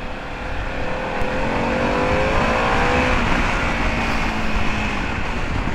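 Harley-Davidson motorcycle on a demo ride, a loud continuous engine drone with rising and shifting pitch as it accelerates, mixed with steady wind rush.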